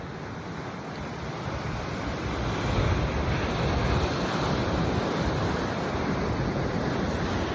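Ocean waves wash steadily over coastal rocks on the California shore where mussels grow, a continuous loud roar of surf with wind noise and no talk.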